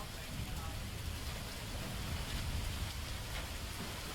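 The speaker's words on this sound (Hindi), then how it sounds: "बारिश जो है वो देखने को मिल रही है।" Heavy rain falls during a downpour in Haryana, a steady, dense hiss of drops on surfaces at constant loudness throughout, with no distinct individual impacts.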